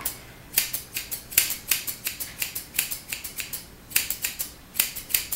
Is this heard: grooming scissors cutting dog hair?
yes